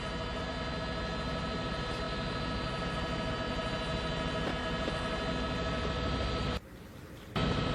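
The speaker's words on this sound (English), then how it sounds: "if he can hear the sound of your chopper" A police helicopter flies overhead during a search, giving a steady droning engine hum with a constant tonal whine. It holds at an even level, drops out briefly near the end, then resumes, with no talking.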